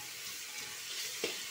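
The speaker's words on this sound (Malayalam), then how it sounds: "നമ്മള് കട്ട് ചെയ്തു വെച്ചിരിക്കുന്ന പച്ചമുളകും കറിവേപ്പിലയും കൂടി നമുക്ക് ഇതിലേക്ക് ഇട്ട് കൊടുക്കാം ഇനി ഇത് വീണ്ടും നല്ലതുപോലെ ഒന്ന് വഴറ്റിയിട്ട് കൊടുക്കാം" Green chilies and curry leaves sautéing in a hot pan for potato kurma, giving a steady bright sizzle with a single brief scrape or stir near the end, close and fairly loud, no voices.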